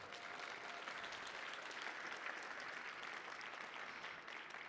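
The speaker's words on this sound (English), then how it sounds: "Give him a round of applause." A theater audience at a comedy show claps for the DJ, giving steady, dense applause that holds evenly throughout at a moderate distance with no voices over it.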